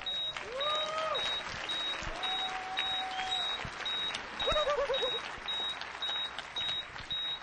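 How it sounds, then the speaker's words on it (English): Audience applause at a DEF CON hacking conference presentation, steady clapping throughout with repeated electronic beeps and chirping tones layered over it. "Give them a round of applause."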